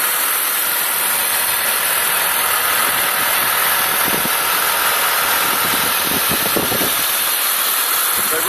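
A 2003 Honda CR-V with a 2.4-litre four-cylinder i-VTEC engine idles steadily and fairly loud and close, with a constant low rumble and faint mechanical hum throughout.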